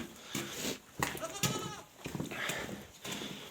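Goats on a farm bleat during morning chores, several short wavering calls in an irregular run at close range with no talking.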